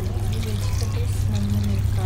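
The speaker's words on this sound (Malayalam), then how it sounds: "ഇനി നമുക്ക് വെള്ളം ഒഴിക്കാം." Water is poured over chopped vegetables in a pot for sambar, a steady splashing trickle over a constant low kitchen hum, with no talk.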